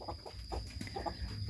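A Pradu Hang Dam breeding hen from Chiang Mai gives soft, quick clucks in short bursts, faint and close against a steady background hum.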